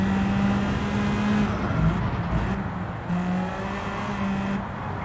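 A race car engine in a racing video game roars steadily at high revs, with small pitch shifts as the car accelerates and changes gear. It is loud and close, with no talk.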